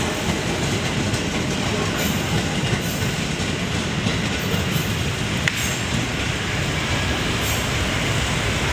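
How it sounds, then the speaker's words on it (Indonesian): Crowded commuter train passing on the rails, a continuous loud rumble with clickety-clack and faint high squeals, close by and with no voices over it. "Masih penuh aja ya keretanya"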